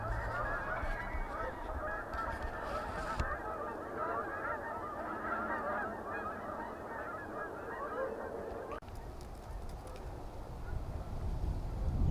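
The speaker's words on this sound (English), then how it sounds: "Wow, another batch kicked up." A large flock of geese honking continuously outdoors, many overlapping calls filling the air, steady and fairly loud with no voices.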